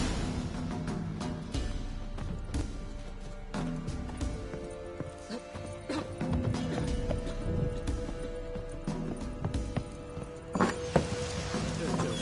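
The horse Roach gallops in a video game, rhythmic hoof clip-clops running steadily over ambient game music and environmental sound, with a snort near the end.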